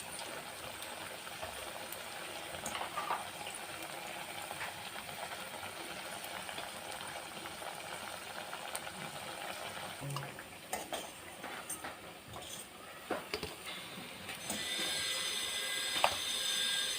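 Fish cutlets fry in hot oil over a low flame, a soft steady bubbling crackle with scattered pops and clicks, close by and without voices.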